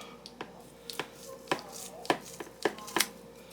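Food scissors snip through lean flank steak in a quiet run of about eight short, crisp cuts, some closely paired, with near-silence between them.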